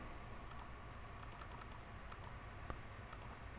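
Sharp, sparse computer clicks while playing Farming Simulator 2017, faint and close, scattered in small irregular bursts over low room hiss.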